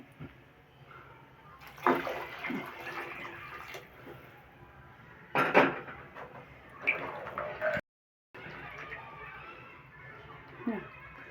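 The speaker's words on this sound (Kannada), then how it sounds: "ಇನ್ನೊಂದು ಸ್ವಲ್ಪ ನೀರು ಹಾಕ್ತೀನಿ" Water is poured into a pot of village-style avarekalu sambar while cooking, coming in a few short splashing bursts separated by quieter pauses, close by, with a person talking between the pours.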